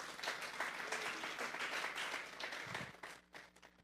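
Church congregation clapping together in a sustained, dense round of applause that stays loud for about three seconds, then thins out toward the end.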